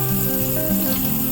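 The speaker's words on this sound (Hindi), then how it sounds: "अच्छे से प्याज को चलाते चलाते हम हल्का सुनहरा होने तक" Chopped onions fry in a pan and are stirred, a dense, even sizzle that stays close and steady, with no voices.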